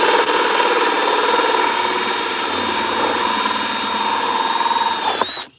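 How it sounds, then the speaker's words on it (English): A power drill bores through plastic in reverse, a loud steady whirring whine with a gritty cutting rasp, running continuously before cutting off abruptly at the end. "No plastic gets stuck in your drill bit, and you get a smoother cut."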